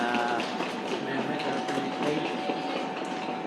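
Steady mechanical rumble and rattling of a train ride at the Everland amusement park, continuous and fairly loud throughout, with a faint murmur of voices in the background.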